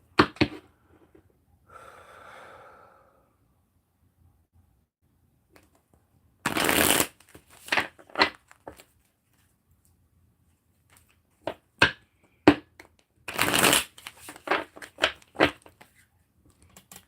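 Tarot cards shuffled in bursts during a live reading, with crisp riffling flurries around six to eight seconds and again near fourteen seconds, separated by scattered light handling taps and a soft rustle early on, with no talking.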